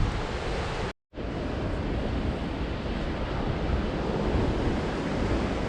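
Surf washing onto a beach on the South West Coast Path between Seaton and Branscombe, a steady loud wash of waves with wind noise on the microphone and a brief dropout near the start.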